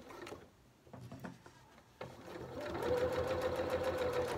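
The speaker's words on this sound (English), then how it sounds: "I'm going to stop and reverse sew just at this point here" A sewing machine stitches a lapped zip into a cushion back, its steady mechanical whirr building after a few short starts and stops, close and fairly loud.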